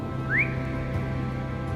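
A single short rising whistle stands out over a steady background hum, then gives way to quiet room tone.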